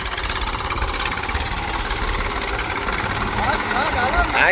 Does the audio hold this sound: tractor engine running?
yes